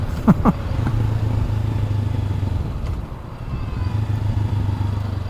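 Honda CB500 Hornet 2024 motorcycle engine running steadily while riding, a low continuous drone with a couple of brief clicks near the start and a slight dip midway, no talking.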